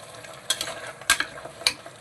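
Mutton being stirred into a tomato, onion and green chilli masala for mutton biryani: a few scraping, clattering spoon strokes against the pan over a soft steady sizzle, no voices.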